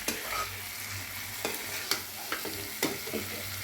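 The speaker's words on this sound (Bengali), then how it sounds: "একটু জল দিয়ে দিয়ে কষছি একটু জল দিয়ে দিয়ে কষে নিচ্ছি" Cauliflower and potato fried with spices, a splash of water added while stirring: steady close sizzling broken by several sharp spatula scrapes and knocks against the pan.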